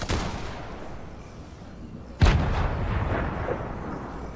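Grenade launcher fire in a video game: a sharp, loud blast near the middle rolls into a long rumbling tail over a low background din, with no talking.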